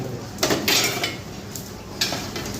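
Metal cooking vessels set down one after another for weighing at a Kozhikode halwa-making stall, a few bright clanks and clatters spaced through a short stretch, fairly close with background hum.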